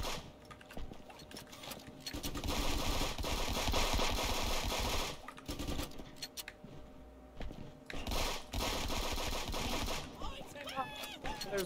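Turrets fire in a multiplayer video game in long, rapid mechanical bursts, with brief pauses between volleys. Players talk over the steady chatter of shots.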